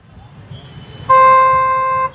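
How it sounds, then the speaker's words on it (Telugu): A loud auto rickshaw horn blares in one sustained, steady blast lasting about a second, starting abruptly and cutting off sharply, over a background of low traffic rumble. "ఆటో డ్రైవర్ గారు హార్న్ కొట్టండి"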